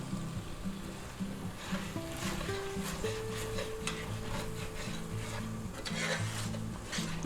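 Shrimp and roasted pork fried rice gets stirred and tossed in a hot pan, producing a steady scraping, clattering sizzle with a low continuous hum beneath, close and moderately loud for the whole stretch.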